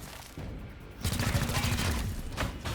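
Gunfire in XCOM Chimera Squad: a loud, rapid burst of shots bursts in after a short lull, rattling on as a sustained fusillade for about two seconds.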